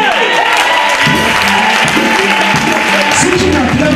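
Congregation applauding and cheering at a Dunamis church service in French, sustained clapping with crowd voices and a speaker talking over it throughout.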